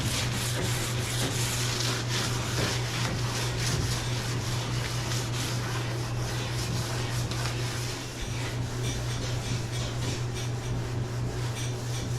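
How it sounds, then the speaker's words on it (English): Continuous power sanding on the topside hull of a 1967 Boston Whaler 17 ft boat under restoration, a steady close abrasive hum and rasp with a low motor drone and slight rhythmic variation, no talking. "first we got to do some sanding"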